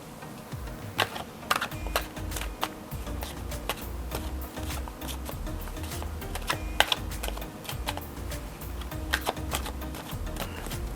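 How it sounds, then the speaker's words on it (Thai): Tarot cards are shuffled continuously, a close stream of crisp papery clicks and flutters with an uneven rhythm and a few sharper snaps. "เราจะทำการสับไพ่ไปพร้อมๆกันนะครับ"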